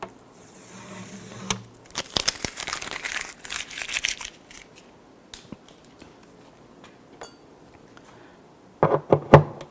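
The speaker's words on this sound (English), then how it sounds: "Now I can remove the tape." Masking tape peeled off an acoustic guitar bridge after routing and finishing, giving sharp crinkling crackles and tearing snaps in clustered bursts. A final flurry of louder rips comes near the end. Nobody speaks.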